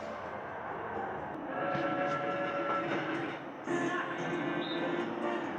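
A video game train in the Super Mario Party minigame Train of Pain rumbles steadily, close and loud, with a swelling roar and some high whistling tones.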